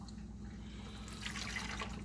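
Homemade turkey broth being poured from a measuring spoon, a soft liquid trickle and splash close by that grows slightly toward the end, quiet, with no voices.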